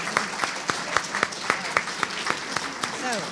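A small audience gives Dan a few sparse, evenly spaced handclaps, fairly quiet and close, with a voice briefly audible near the end.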